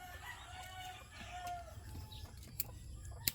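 A pet chicken clucks softly now and then in a quiet outdoor yard, with a couple of sharper peaks near the end over low background rumble; no one speaks.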